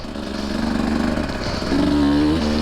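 A 2023 Husqvarna TE150 two-stroke dirt bike engine running on a single-track trail, a buzzy, continuous drone close by that climbs in pitch as the rider accelerates near the end.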